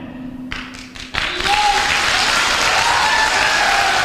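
An audience at a motivational network-marketing seminar breaks into applause: a few scattered claps, then a sudden full, loud burst of many hands that holds steady and dense to the end.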